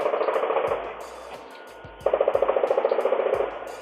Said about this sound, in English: Ring camera video near the church also capturing what seemed to be multiple rounds of gunfire.